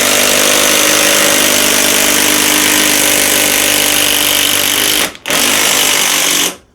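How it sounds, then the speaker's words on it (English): Festool TI15 impact driver hammering in impact mode, a loud continuous rapid rattling close up, pausing for a split second near the end before a final burst and stop. "And we set it up in impact mode."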